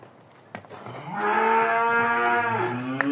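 A castrated Hereford bull among a group of forty male cattle gives one long, loud, nearby moo lasting about a second and a half, with no talk over it.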